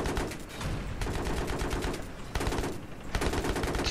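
Sustained automatic gunfire in a Battlefield 3 multiplayer match, loud and continuous with brief gaps, rapid rhythmic shots dominating throughout.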